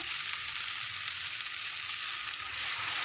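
Spices with salt, turmeric and chili powder sizzling with grated coconut in a pan, a steady hiss of frying held at an even, moderate level throughout, close by and with no voices.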